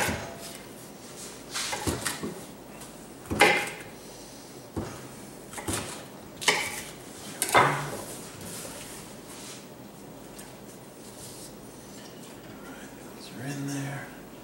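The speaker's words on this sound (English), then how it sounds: "I'm just going to rough chop these up" Hot peppers are roughly chopped with a knife on a board, giving several separate, sharp, close knocks at irregular intervals with quieter stretches between them and no talk.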